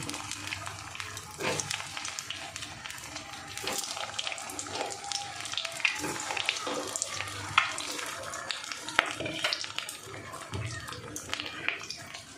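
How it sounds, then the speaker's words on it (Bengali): Vegetable fritters (bora) sizzling in hot oil, a steady crackling fry with bursts of spatter and occasional clinks of a utensil, a voice talking faintly in the background. "এবার আমি পরের বড়াগুলো ছেড়ে দিলাম তেলে"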